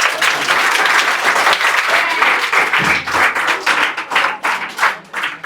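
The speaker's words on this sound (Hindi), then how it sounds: "तालियां तो बजा दो तुम लोग।" Schoolchildren at a village coaching-class topper ceremony clap together in a dense, steady round of applause that lasts several seconds, loud and near, with a few voices mixed in.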